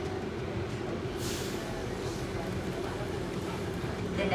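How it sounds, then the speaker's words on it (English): Steady low rumble of an Atlanta airport train car in motion, a continuous mechanical drone with faint muffled voices in the background. "This train is departing."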